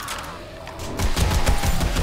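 Rapid bursts of gunfire from the zombie-survival game 7 Days To Die, denser and louder in the second half, crackling over a steady game soundscape with no talk.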